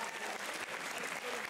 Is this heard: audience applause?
yes